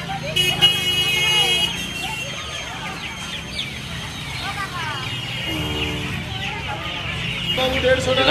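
Chickens cluck and squawk repeatedly at a poultry market, fairly close and overlapping, while a person talks over them and traffic noise sits in the background.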